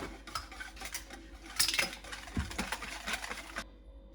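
A spoon clinks and scrapes against a bowl while mixing garam masala and turmeric, a run of light, uneven taps and scrapes that stops just before the end.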